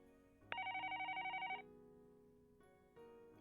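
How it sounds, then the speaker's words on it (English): A telephone bell rings in a rapid trilling burst for about a second, followed by quieter synthesized background tones, a sound effect in the visual novel Higurashi. "The phone desk rang and the cop picked it up"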